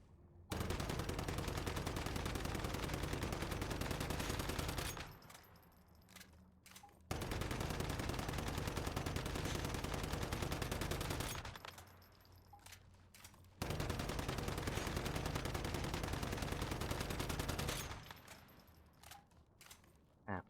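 Sustained automatic fire from the SOCR rifle in the shooter game Once Human, three long loud bursts of several seconds each separated by short pauses, dense and continuous with no talk.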